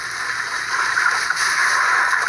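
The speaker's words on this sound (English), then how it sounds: "And pour about 200 pounds of ice." About 200 pounds of ice pours into a giant 1,500-gallon Coca-Cola pool, a loud, continuous rush and splash of liquid that holds steady, close up.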